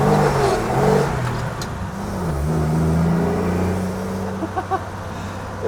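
A car engine revving hard through a clutch-slip burnout attempt, a loud, sustained mid-pitched roar that rises and falls over several seconds, close to the microphone with no talk.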